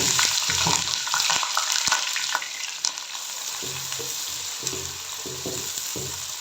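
Oil sizzles and crackles steadily as garlic and onion fry in a pan, with a few soft knocks and scrapes of stirring partway through.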